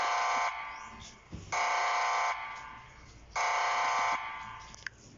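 An Emergency Alert System alarm blares in loud, harsh buzzing bursts of about a second each, with two full cycles and quieter gaps between them. Faint talk sits underneath.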